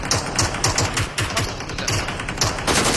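Rapid automatic gunfire in PUBG Mobile crackles in dense, loud bursts of sharp shots, a continuous fusillade with brief gaps and no talk over it.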